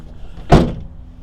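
Tailgate section of a 2019 GMC Sierra 1500 AT4 MultiPro tailgate being pulled up, a single short, solid clunk in the middle of an otherwise quiet moment, close by.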